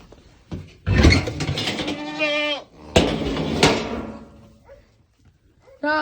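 Goats bleat close by in a few loud, wavering cries, mixed with knocks and thuds, then a short bleat at the end.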